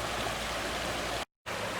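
Water of the Sandusky River flows steadily in a broad, even rush close by, briefly cut to silence before the stream noise resumes.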